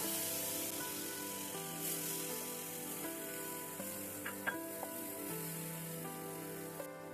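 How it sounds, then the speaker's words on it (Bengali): Chopped onions fry in hot oil left over from frying eggplant, giving a steady, moderate sizzle with a few crackles over a low tonal background hum. "পেঁয়াজটাকে বাদামি কালার করে ভেজে নিব।"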